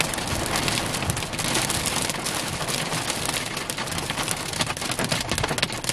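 Big hailstones pound down during a cold-core December storm, a dense, steady clatter of hard impacts on surfaces and a vehicle throughout, loud and close, with no speech.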